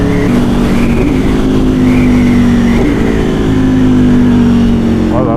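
An Aprilia Tuono Factory motorcycle with a throaty exhaust roars loudly while riding, its engine note swelling and falling as the revs climb and ease, with a rider's voice faintly underneath.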